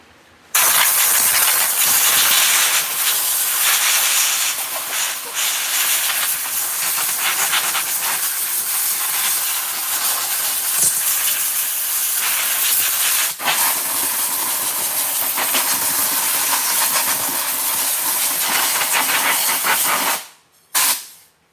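Compressed air hisses loudly and almost without a break, blowing debris off an old, neglected Stihl chainsaw on a workbench. The blast cuts off abruptly near the end, followed by a short final burst.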